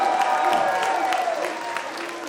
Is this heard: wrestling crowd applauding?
yes